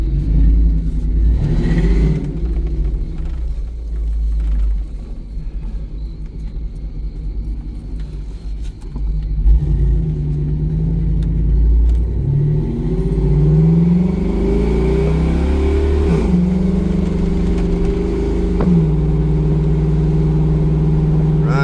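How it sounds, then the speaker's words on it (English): A 2001 GMC Yukon's engine runs steadily after a fuel pump replacement, a loud close rumble with a couple of revs rising and falling over a constant idle and no talk. "And this thing, trust me when I tell you, it runs."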